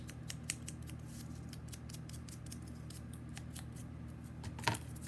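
Scissors snip through cardboard for a self-portrait project, a steady run of close crisp cuts with a louder snip near the end over a low background hum.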